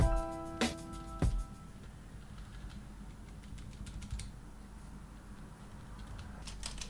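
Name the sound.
typing on Gearmaster Phantom Max GMK-098 keyboard, semi-blue switches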